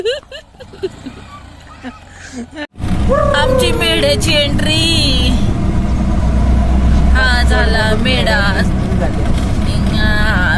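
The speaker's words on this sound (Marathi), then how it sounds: "आई ग गाडी नुसती उड्या मारते खड्डे कुड्डे आले की ऑटो आहे ना" An auto rickshaw ride on a village road into Medha, the engine running steadily and loud with jolts over potholes, while people talk over it throughout.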